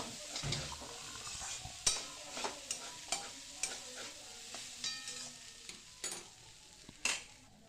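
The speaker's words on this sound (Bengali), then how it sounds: "এবার এর মধ্যে জল ছড়িয়ে রাখা চিড়েটা দিয়ে দেব দিয়ে ভালো করে নেড়ে চেড়ে সবজির সাথে চিড়েটাকে ভালো করে মিশিয়ে ভাজা ভাজা করে নেব" Water-sprinkled flattened rice tossed with vegetables in a hot pan, with a soft background sizzle broken by a dozen sharp spatula scrapes and clinks against the metal in an uneven stirring rhythm.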